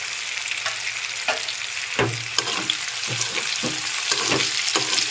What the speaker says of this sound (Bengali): একটু নেড়ে চেড়ে মিশিয়ে নিলাম।